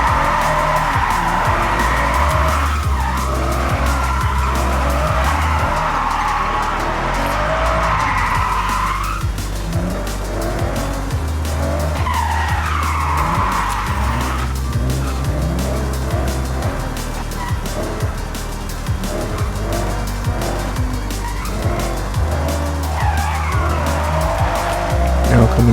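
Cars drift around a ranch track in the Forza Horizon racing game, loud engines revving with repeated drawn-out tire squeals and skids, sustained throughout with someone talking over them.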